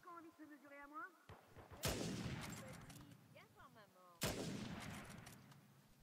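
Sniper rifle shots in Uncharted 4 multiplayer, two loud, sharp blasts a couple of seconds apart, each trailing off into a long decaying echo, with chirpy game effects between them.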